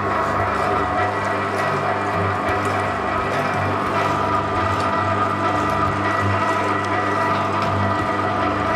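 A meat grinder runs continuously while grinding meat for merguez sausages, a dense steady mechanical whir with gear-like grinding texture and no pauses.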